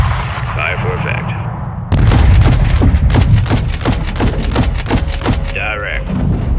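Artillery strike in the Call of Duty Modern Warfare campaign: after a quieter stretch with a voice, a dense rapid train of heavy thudding blasts erupts and keeps pounding loud and close for several seconds, with brief radio-style voice bits over it.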